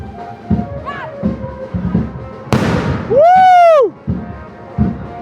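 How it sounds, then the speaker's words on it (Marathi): Fireworks go off during a wedding procession, with one sharp crackling burst followed by a loud rising whistle, over rhythmic procession drumming and some voices. "मंडळी आता फक्त फटाक्यांची आतिषबाजी पण बघा."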